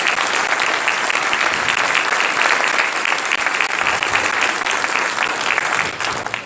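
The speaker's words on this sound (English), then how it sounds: "I would like for you to applaud the work that you have done to enrich this." A crowd at a state Secretary of State swearing-in ceremony in Delaware breaks into loud, sustained applause, dense and steady throughout with no voices over it.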